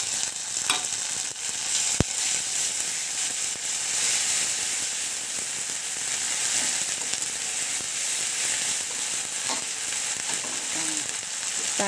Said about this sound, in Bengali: তারপরে দিয়ে দিলাম আদা রসুন বাটাটা।